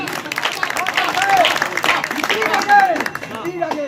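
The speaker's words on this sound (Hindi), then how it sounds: "इसलिए आप ज्यादा ताली बजाना" An audience at a Hindi poetry gathering, a kavi sammelan, claps in a steady smattering of applause that runs under a speaking voice.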